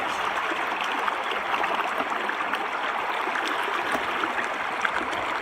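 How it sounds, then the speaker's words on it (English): Creek water rushes steadily over rocks in a continuous, even hiss of moderate loudness, with no voices. "It's got a good current hitting it."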